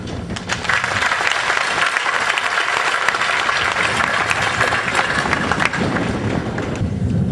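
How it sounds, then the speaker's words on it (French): Sustained, dense applause from a large audience at a Catholic youth gathering in Dakar, an archbishop's address to young people, steady and loud throughout with no voices standing out. "mérite qu'on puisse vraiment l'applaudir"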